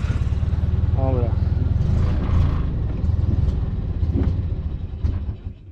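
Small air-cooled two-cylinder Fiat 126p cabrio engine putters and rumbles up close, revving unevenly before a sharp backfire pop and the engine dying away, with someone talking over it.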